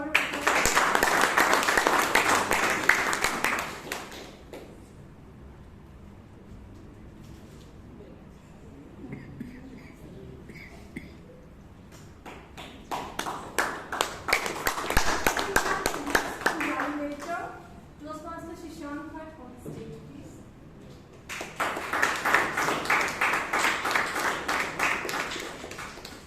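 Toastmasters meeting audience in Bangalore breaks into applause, a dense burst of clapping at the start, then talk and scattered claps, with another round of clapping near the end.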